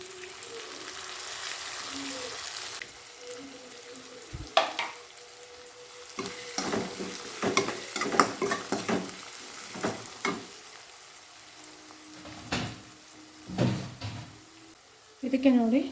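Onions fry in a pan for North Karnataka rotti oggarane, under a soft, steady sizzle. A spoon scrapes and stirs in close, irregular strokes and knocks.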